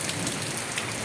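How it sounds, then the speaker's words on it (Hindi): Heavy monsoon rain pours steadily on surfaces outside a home in Dehradun, a dense, continuous hiss with no voices, loud and close throughout. "देखो इतनी बारिश आ रही है यहाँ पे"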